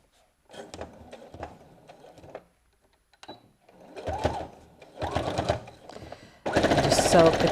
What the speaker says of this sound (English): where we did that crease line, we're going to sew